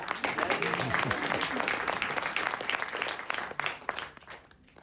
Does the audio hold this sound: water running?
no